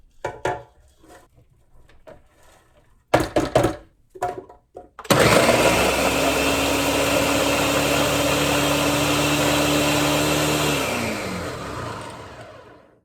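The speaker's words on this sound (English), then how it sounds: "Blender definitely works." A Ninja blender grinds gluten-free breadcrumbs, starting with a few short pulses and then running in a loud, steady whir for several seconds before winding down at the end.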